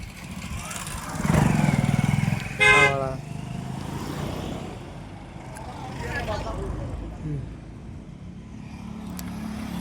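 A motorcycle at a village gathering in Dahod gives a short horn honk amid low engine noise, while people talk nearby.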